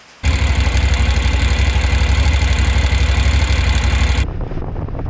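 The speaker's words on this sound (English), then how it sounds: "Another kind of disconcerting sound coming from my engine yet again" A motorcycle engine with a troubling fault starts and runs loud and close, a rough, pulsing low idle with a rhythmic mechanical knock, then drops off abruptly near the end.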